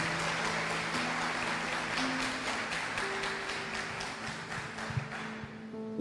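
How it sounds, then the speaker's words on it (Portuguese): Church congregation clapping steadily for several seconds, a dense, continuous patter with some rhythmic beats and sustained organ or keyboard tones underneath. "Essa é para Jesus, aplauda com vontade"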